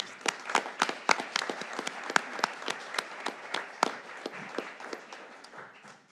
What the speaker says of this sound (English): just for one more round of applause for the creativity